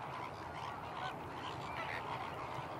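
Flamingos call as a dense colony, a continuous mass of honking, goose-like cries blending into a busy, fairly distant wash with no speech.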